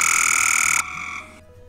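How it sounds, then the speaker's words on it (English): Gray Tree Frog calling with a loud, steady, buzzy trill that holds close and strong, then cuts off abruptly and leaves quieter background frog calls fading out. "Gray Tree Frog,"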